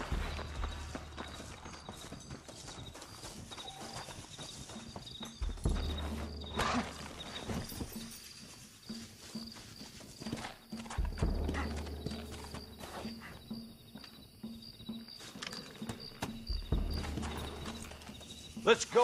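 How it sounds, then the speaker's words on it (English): Horse hooves clip-clop in uneven walking rhythms alongside an occasional whinny and mechanical clatter in the Western video game Red Dead Redemption on PS3, with voices talking intermittently over the moderately quiet scene. "Looks like Carlos left us some horses."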